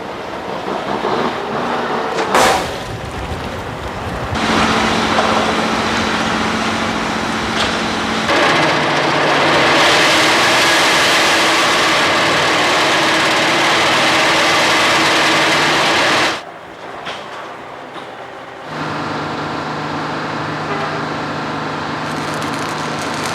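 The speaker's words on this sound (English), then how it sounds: "A specially designed machine, called a vibratory pile driver, clamps onto the pilings and forces them through the sediment." A vibratory pile driver clamps onto pilings and forces them through sediment, producing a loud, sustained mechanical buzzing drone that surges and holds, cuts out abruptly, then resumes at a lower level.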